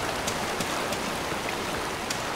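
Steady splashing and rushing water as a character swims upstream against a stream current in Far Cry 4, a dense continuous wash with scattered brighter splashes throughout.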